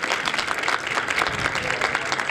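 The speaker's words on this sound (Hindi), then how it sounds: "तालियां होनी चाहिए" Audience applause at a Christmas celebration with a bonfire program, a dense steady round of clapping from a crowd, loud and continuous throughout with no talk over it.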